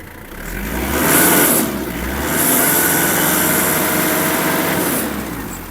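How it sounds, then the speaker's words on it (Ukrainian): A Kubota L1-325 Hi Speed mini tractor engine revs up twice from idle, rising to a loud high whine and then holding it, heard close by with no voices. "Білого диму не виявлено, я навіть добавлю обертів."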